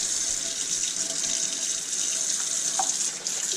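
Steady stream of water running from a sink tap while a heavily soiled pan is rinsed, a continuous close hiss with faint clinks, no talking.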